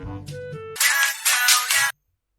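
Mobile phone ringtone for an incoming call: a short tonal melody followed by loud bright bursts of ringing that stop abruptly into silence.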